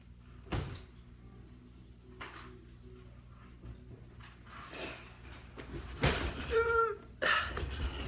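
Doors being shut inside a home, a few soft bumps and latches at moderate distance, with faint shuffling and a squeak near the end, no clear talking.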